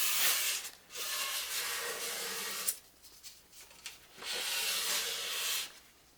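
Hand sanding a wood finish on a bookcase with 320 grit sandpaper, close steady rubbing strokes in two long passes with a brief pause between them.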